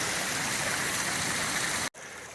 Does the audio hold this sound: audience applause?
no